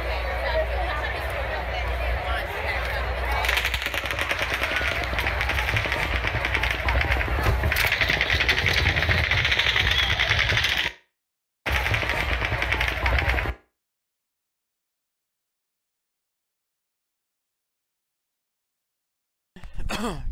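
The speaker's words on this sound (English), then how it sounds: "he is supposedly shooting an automatic weapon out of the 32nd fucking story window" Automatic weapon gunfire during the Las Vegas shooting, a dense, continuous crackle of rapid shots blending into crowd noise and voices, loud for about ten seconds before cutting out, then a short burst and silence.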